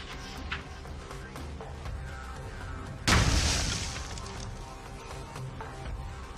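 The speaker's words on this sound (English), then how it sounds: "we got some pretty cool little explosions out of them" A single sharp blast from tracer rounds fired from an AR-15 bursts out midway, loud and broadband, then decays over a second or two amid a quieter background of rustling noise.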